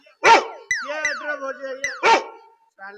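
A dog barks twice, sharp and close, with a whiny, yelping voice in between.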